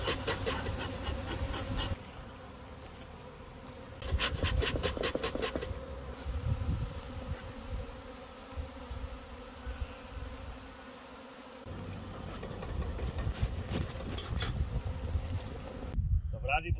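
A swarm of honeybees hums with a steady, faint buzzing outdoors, shifting in intensity over several seconds with some rustling and handling noise.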